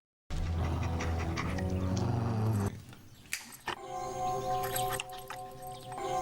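Several trained dogs in a movie scene panting and growling close up, a dense animal texture for a couple of seconds before a quieter stretch with brief sharp noises and a bird-like call.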